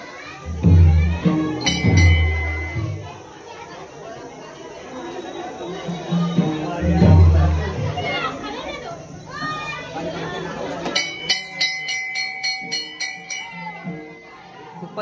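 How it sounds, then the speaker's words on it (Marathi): Dense chatter of a crowd inside a packed Shankar temple on Ram Navami, with adults and children talking together, close and fairly loud, broken near the end by a run of bright metallic clinks and rings. "खूपच गर्दी आहे आतमध्ये."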